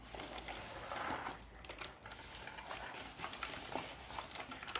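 A Genesis Thor 300 gaming keyboard with Outemu blue switches clicks in quick, irregular bursts of sharp keystrokes, close up but fairly quiet, with no speech over it.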